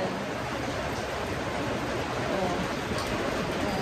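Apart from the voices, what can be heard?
heavy rain at a campsite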